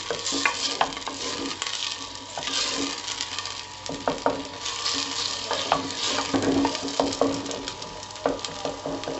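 Aloo baingan vegetables sizzle and fry in a clay pot while being stirred, with steady crackling and repeated scraping and clinking of a spoon against the pot, close and continuous.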